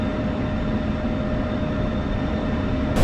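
Jet engine roar from a combat flight game aircraft on the runway for takeoff, a steady loud broadband rumble with a faint whine that holds evenly and swells slightly louder at the very end.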